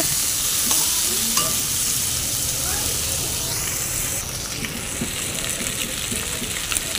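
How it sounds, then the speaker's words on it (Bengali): Potatoes, eggplant and drumstick stems sizzle steadily in hot oil for a fish curry, with a spoon scraping and stirring through the pan; the frying hiss stays close and continuous throughout. "তো এটাকে ভালো করে সবজিটাকে একটু ভাজবো।"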